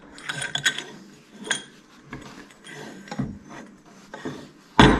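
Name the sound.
Harley 41 mm fork lower leg sliding onto tube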